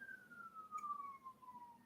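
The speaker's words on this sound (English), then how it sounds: "Ooh, I hear sirens." A distant siren gives a single long, slowly falling wail, faint and steady for about two seconds over quiet background noise.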